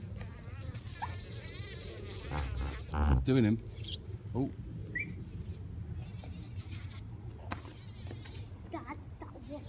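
A bee and a wasp fight and buzz up close, with erratic insect hum and sharp bursts of buzzing. People speak briefly over the sound.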